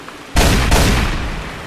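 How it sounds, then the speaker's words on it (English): A single loud gunshot cracks out sharply, followed by a second close report, and the booming echo decays slowly afterward. "You just heard gunshot?"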